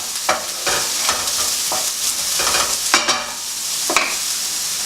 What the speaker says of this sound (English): So these are cooking away. We've had the onions in.